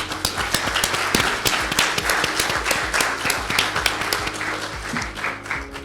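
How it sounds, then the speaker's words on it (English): An audience at a stakeholder conference applauds steadily, close and fairly loud, with crisp individual claps clearly audible in the continuous ovation. "Let's have a round of applause for all of them."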